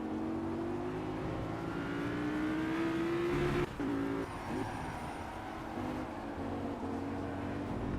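Racing car engine in the game Project Cars, a loud sustained drone that climbs steadily in pitch, drops abruptly at a gear change, then holds at a rough, steady roar.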